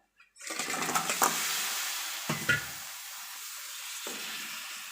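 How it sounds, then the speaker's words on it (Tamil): Crab pieces go into hot pepper masala and start frying. A sudden loud sizzle settles into continuous crackling, broken by brief stirring bursts, up close with no talking. "இப்போ வந்து நம்ம வச்சிருக்கிற நண்டு வந்து ஆட் பண்ணிக்கலாம்"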